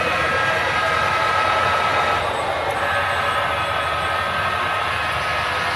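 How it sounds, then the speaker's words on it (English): A model steam train rolls along a layout track, giving a steady low rumble and hiss with faint mechanical whine, continuous and fairly close, with no talking. "There comes the steamer,"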